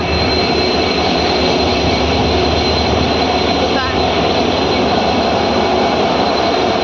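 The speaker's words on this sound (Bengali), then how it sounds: "passenger train," A passenger train near Guwahati runs past with a loud, continuous broadband roar that holds steady throughout.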